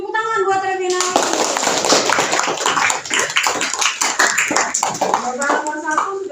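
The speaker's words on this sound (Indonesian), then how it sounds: "tepuk tangan buat Revinalis" Classroom applause for a student, a burst of lively clapping from many children that starts after a brief voice, runs strongly for several seconds, and fades as speaking resumes at the end.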